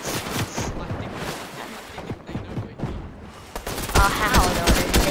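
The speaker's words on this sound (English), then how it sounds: "I'm getting shot." Rapid gunfire in the Fortnite video game, a dense crackling fusillade of shots and impacts that continues throughout, with a player's voice talking over it.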